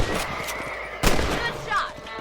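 Gunfire in Red Dead Redemption cracks out in a few sharp shots, one especially loud and close about midway, over a busy outdoor game backdrop.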